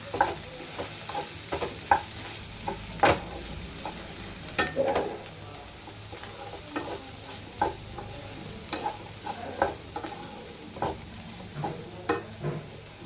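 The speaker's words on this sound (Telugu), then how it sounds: "ఇప్పుడు ఇందులో కొంచెం కారం వేసుకొని కలుపుకొని ఇంకొక రెండు నుంచి మూడు నిమిషాలు మగ్గనిస్తే" A spoon stirs a potato fry dusted with chili powder in a frying pan, giving repeated scraping strokes over a steady low sizzle, close and moderately loud with no talking.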